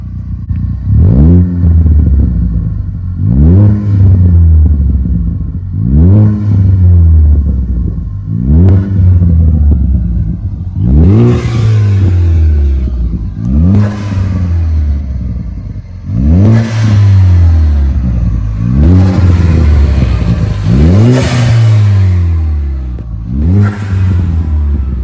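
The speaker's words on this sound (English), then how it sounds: "There we go, quick rev." A Ford Ranger EcoBoost with a turbo and new exhaust, revved hard again and again in a shop. Each rev climbs steeply and drops back, about eight loud, close pulls over a steady idle rumble.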